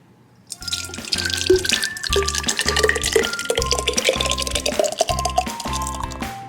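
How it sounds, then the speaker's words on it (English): Homemade mock raspberry jam made from fresh garden tomatoes, poured into jars, gives soft liquid glugging and dripping sounds beneath steady background music, fairly close and moderately loud throughout. "we're gonna pour it into our containers here and then it will set up in the fridge"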